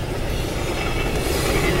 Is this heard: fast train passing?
yes